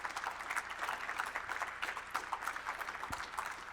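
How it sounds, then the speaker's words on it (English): Convention audience applauding a service award at a league's annual gathering, a steady, fairly faint wash of many hands clapping that holds evenly throughout without voices. "Can you please give a huge round of applause"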